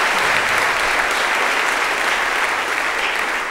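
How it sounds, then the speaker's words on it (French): Sustained audience applause for a young children's choir from Île-de-France at a welcome ceremony, dense and steady clapping filling the whole stretch at close range with no voices over it. "que l'on peut applaudir"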